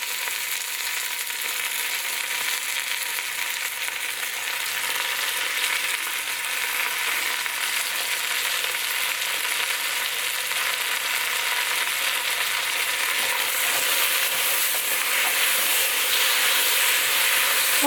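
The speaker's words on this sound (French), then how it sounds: "je vais sauter la viande pour à peu près 5 à 10 minutes" Beef sirloin sautéing in a pan, a steady bright sizzle and crackle that holds and swells slightly, close and continuous with no talking.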